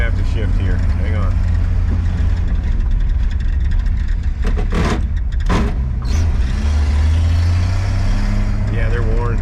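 A 1960 Plymouth Savoy with a badly worn synchromesh transmission roars steadily up close while gears are changed, with two sharp clunks breaking through the engine noise midway.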